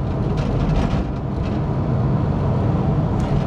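A Ford Escort van engine revs freely, a loud, steady, broadband roar close by with little change in pitch, no voices over it.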